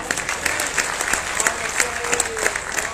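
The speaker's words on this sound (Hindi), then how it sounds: "तालियां बड़ी करिए।" Audience applause at a Hindi comedy poetry gathering, a dense steady crowd clapping that fills the whole stretch with sharp individual claps popping through, fairly loud and close.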